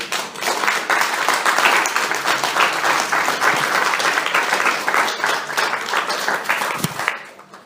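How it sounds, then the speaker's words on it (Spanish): A church congregation claps during a Spanish-language sermon, a loud, sustained roar of many hands that stays strong for several seconds before tapering off quickly at the end. "Denle un aplauso al Rey."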